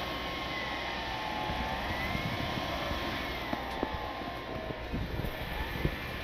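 Engine running steadily with a slight throttle increase on a broken-down vehicle, a constant loud drone with a faint rising tone and no talking.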